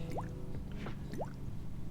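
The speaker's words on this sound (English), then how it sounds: "So we're here and we can sort of water 2 flowers at once." Water poured onto flowers in the game Petal by Petal makes two quick, bright droplet plinks over a soft, steady background hum.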